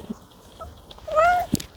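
A house cat meows once, close and fairly loud, a rising then falling cry, with faint room noise and a brief knock around it.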